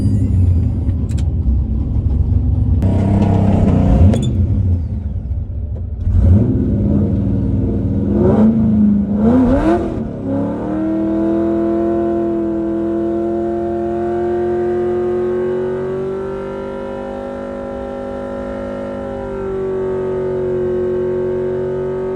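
A cheap, worn Ford Mustang at a drag strip rumbles and blips its engine at idle, then launches into a long, loud, rising roar. The engine climbs steadily through the revs and keeps pulling for many seconds.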